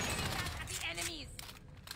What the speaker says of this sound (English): Firing at the enemies.